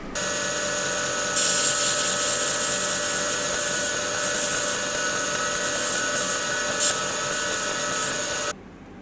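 Steady, loud mechanical grinding whine with a high-pitched edge, grinding a metal knife backspacer part, running continuously for several seconds before cutting off abruptly near the end.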